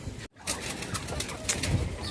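A pigeon coos softly nearby, low throaty murmurs repeating over a faint steady background, with no talk.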